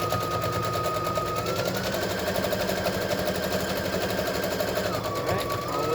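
A sewing machine back stitching along a garment sleeve, a steady rapid mechanical chatter running continuously at close range, with a motor hum underneath.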